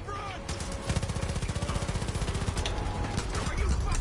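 Rapid automatic gunfire in the Far Cry 5 video game on PS4 Pro, a steady rattling burst of evenly spaced shots that runs through most of the moment, loud and close, mixed with game sound.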